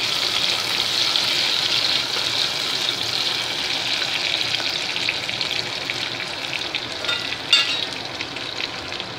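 Tomato pieces fry in a hot pan for kodo millet sambar, giving a continuous bright sizzle with a crackling burst near the end, close and fairly loud, with no talk.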